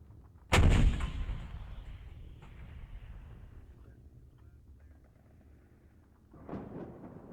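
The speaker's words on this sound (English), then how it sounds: "You guys hear that distant explosion in the distance?" Distant artillery explosion in the video game Warno, one heavy boom with a long rumbling decay, then a second softer blast a few seconds later, with no voices.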